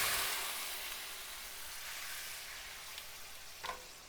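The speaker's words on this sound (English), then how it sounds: "Okay, 1/2 cup of vermouth to our pan." Vermouth poured into a hot pan of garlic, a steady broad sizzle that slowly eases off, with a light clink of a utensil near the end.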